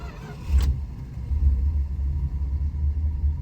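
A 1973 Chrysler Newport Custom engine cranks and rumbles steadily after a brief start, a low continuous idle close by with no talking.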